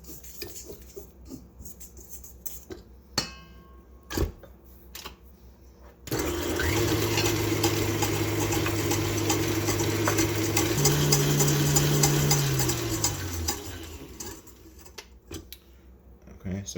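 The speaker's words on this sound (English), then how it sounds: "we're basically beating a bunch of air into these egg whites" Electric hand mixer whipping egg whites with sugar for Japanese soufflé pancakes, a steady loud whirring drone that starts abruptly and runs for several seconds, its pitch stepping up partway through before winding down, with faint kitchen clatter around it.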